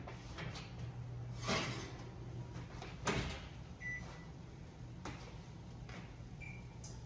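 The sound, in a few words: taking roasted vegetables out of the oven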